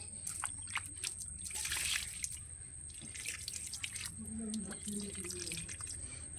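Water splashes and drips while a palm fruit is washed by hand, with irregular trickling and splatter close by and a faint high steady tone in the background.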